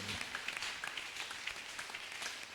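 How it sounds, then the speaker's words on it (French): Steady applause from a church conference audience, a dense patter of many hands clapping throughout with no voices on top. "Vous avez applaudi, mais vous n'avez pas acclamé"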